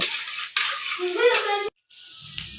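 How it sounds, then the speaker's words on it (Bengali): Nuts lightly frying in a small amount of white oil in a pan, heard as a soft sizzle under repeated stirring and clinks of a utensil, with a brief pause of silence near the end. "কিছু বাদামগুলি একটু হালকা ভেজে নেব।"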